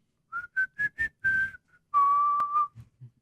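Someone whistles nearby: a run of short, quick notes, then a long held tone that wavers slightly before a couple of faint closing sounds.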